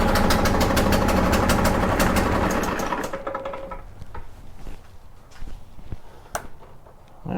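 A Stihl BR800X backpack blower with a fault that keeps it from revving up, its engine roaring loud at full throttle, then dropping to a rougher, fluttering idle with uneven sputters.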